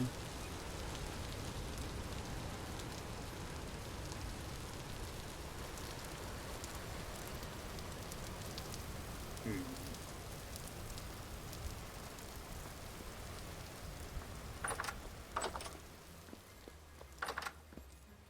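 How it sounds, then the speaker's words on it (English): Steady rain pours down in the video game Vintage Story, a dense continuous hiss with no talk, joined near the end by a few brief sharper clicks and taps. "It rains constantly here, so we don't really have to worry about watering our farm very much."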